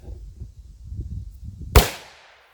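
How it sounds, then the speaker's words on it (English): A single sharp .357 Magnum gunshot firing an Underwood Xtreme Penetrator round over a chronograph outdoors, loud and close, cracking after a low background rumble and trailing off into a brief echo. "Here's the 357 Magnum. Here we go, over the chronograph."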